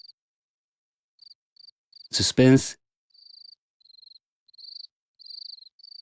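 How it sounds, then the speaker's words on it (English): Layered cricket chirps made for game sound design trill in short, high, evenly pulsed bursts, separated by brief silences, with a single spoken word cutting in partway through. "I edited and pitch matched 4 layers of cricket sounds."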